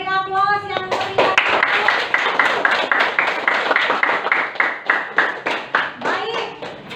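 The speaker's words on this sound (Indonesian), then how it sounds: "kita beri aplaus yang meriah" A classroom of students clapping together in a lively round of applause, steady rhythmic hand claps close by, with a brief voice just before it begins.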